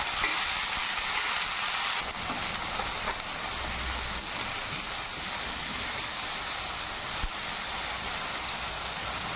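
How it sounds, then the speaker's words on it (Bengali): Sliced bitter gourd and thick-cut onion fry over low heat in oil with a bay leaf in a wok, giving a steady, even crackling hiss that fills the whole stretch without pause or talk. "এভাবে করলাটাকে হালকা আঁচ করে ভেজে নেব।"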